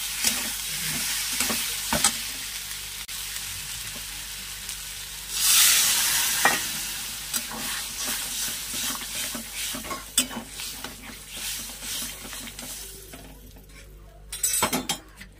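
Okra and potatoes fry in a pan with spices, a continuous sizzle broken by repeated scraping strokes and clinks of a metal spoon stirring against the pan, with a louder burst of sizzling partway through.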